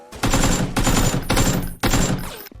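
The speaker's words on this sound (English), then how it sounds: "Oh, shots fired!" Gunfire in a PUBG-style training shooter game: loud bursts of rapid automatic fire, three to four long volleys separated by brief gaps.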